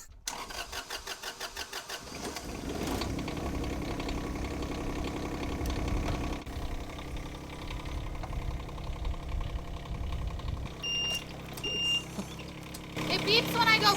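A small trenching machine's engine starts with a sputter, then runs steadily at a medium pitch, with short electronic warning beeps near the end; a voice talks over it.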